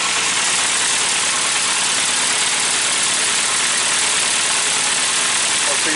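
A classic Mini 1293 race engine idling while it warms up, a loud, close, steady broadband roar that fills the whole stretch without letting up.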